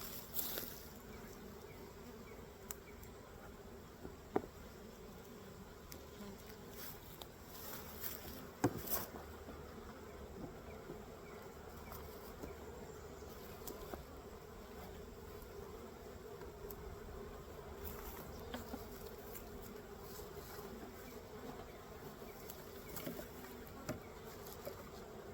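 Honey bees buzz steadily around an open beehive while a frame of comb is being worked, a dense continuous drone with a few faint knocks and no talking.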